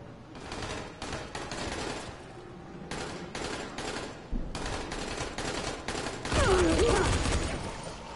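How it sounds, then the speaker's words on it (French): Gunfire in the game Dying Light: bursts of rapid shots that start and stop in several clusters, moderately close, ending in a louder stretch with a rising whine. "Qui tire mais je vois pas où il est."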